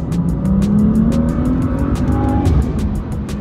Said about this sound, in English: I like the blow of noise it makes when taking your foot off the gas, and the induction noise it makes when putting your foot on the gas.